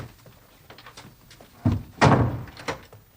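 A door is shut in a period Sherlock Holmes television drama, with a few soft thumps and then a solid close with a brief rattle, heard near and with no talk.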